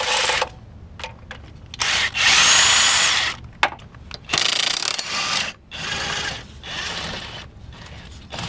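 An impact wrench removes a 14 mm motor mount bolt on a Lexus ES330, firing in several loud, rattling bursts separated by short pauses, close up with no talking.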